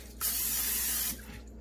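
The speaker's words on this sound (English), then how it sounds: "I've got to spray it with the cooking spray." A close, steady hiss of cooking spray from an aerosol can coats raw fish for the air fryer, one continuous burst of about a second that stops abruptly.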